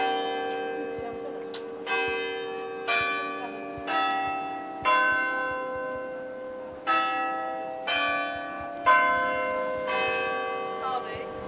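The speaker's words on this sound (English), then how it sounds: "What a big bell." A large church bell tolls repeatedly, about one strike per second, each deep ringing stroke overlapping the last's long humming decay.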